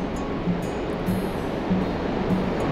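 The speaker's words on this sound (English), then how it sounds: "There's some serious waves out there." Ocean waves break at Ladies Beach in Ballybunion on Ireland's west coast, a loud continuous wash of surf with no talking.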